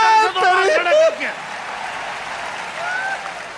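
A voice speaks first, then an audience at a Hindi comic poetry recital in Kota claps in a soft, steady wash that fades gradually.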